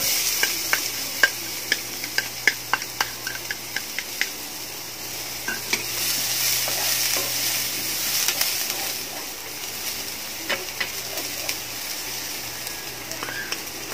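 Onion and garlic sautéing for a cabbage-and-egg dish, a steady sizzle under a quick run of sharp spoon taps against the pan, then slower occasional knocks as stirring continues, no voices.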